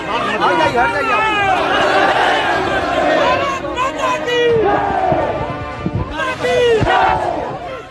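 A large crowd chants slogans against Pakistan at a fallen soldier's funeral, many voices shouting loudly and together in repeated rising bursts, with a steady babble of voices underneath.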